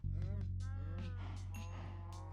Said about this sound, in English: There's a lot of cows right here